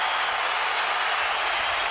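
A boxing arena crowd cheers and applauds at a Kovalev vs Ward fight, a loud, continuous roar of clapping and crowd noise that fills the whole stretch.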